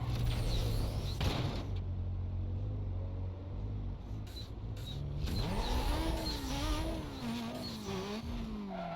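A racing car engine in the video game Need for Speed: Most Wanted whines and revs up and down, with squealing tires, loud and close, the pitch rising and falling through gear changes.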